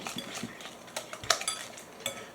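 Banana muffin batter is stirred in a bowl, and a spoon clinks and scrapes against the sides in quick, light, irregular strokes, close and fairly quiet with no talking.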